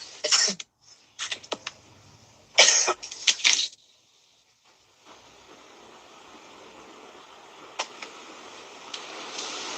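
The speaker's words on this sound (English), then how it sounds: "Sorry, it's my cough." Several harsh, raspy coughs from a person with a bad cold come in short close bursts, then quieter breathy throat noises over a faint hiss.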